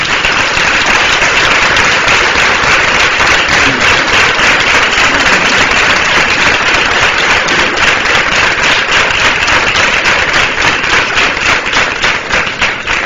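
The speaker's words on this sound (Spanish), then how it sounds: "Un aplauso." Sustained loud audience applause at a cofradía anniversary event, dense even clapping filling the whole span without letup.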